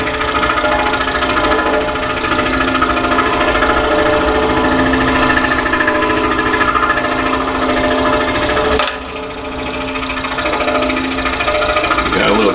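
A scroll saw cuts wood with a rapid, continuous reciprocating chatter that stays loud and steady, dipping briefly near the end before carrying on.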